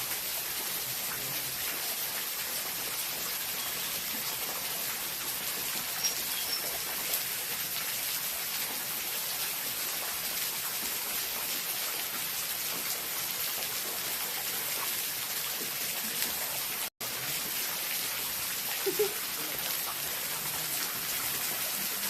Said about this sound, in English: The beauty of this waterfall.